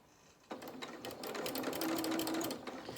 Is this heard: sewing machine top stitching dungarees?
yes